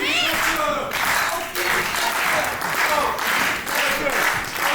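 Crowd at a live wrestling event cheering and applauding for Conrad, a loud, steady roar of clapping and voices that swells in repeated waves across the whole stretch, with a commentator talking over it.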